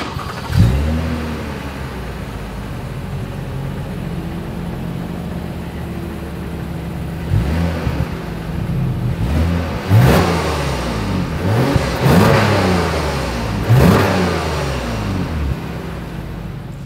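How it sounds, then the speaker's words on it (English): A 2024 Lexus ES 350 sedan idles steadily, then its exhaust rises through several sharp revs with audible climbs and falls in pitch, fairly close and loud, with no talking. "As always, here is that exhaust clip."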